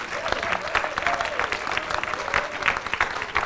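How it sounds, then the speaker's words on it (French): Audience applause at a round-table event held in Montpellier, a steady patter of many hands clapping at moderate volume throughout, with no speech over it. "Ludivine, Virginie et Valentin, qu'on peut applaudir parce qu'ils nous ont vraiment beaucoup aidés."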